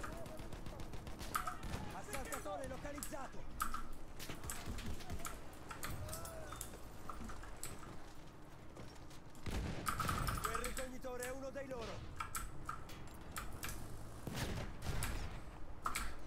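Gunfire and explosions in the video game Battlefield 1 during a tank fight, rapid bursts of shots and blasts layered over game noise, with players talking throughout.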